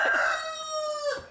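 A rooster crows once, close and clear, a loud drawn-out cock-a-doodle-doo with a rising start and a sustained, slightly wavering call, alone without talk.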